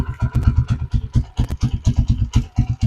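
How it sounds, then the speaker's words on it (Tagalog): A Honda TMX155 motorcycle engine runs at a quiet, steady idle, its close, rhythmic low thumping pulsing evenly and alone throughout. "napakatahimik pa ng kanyang makina"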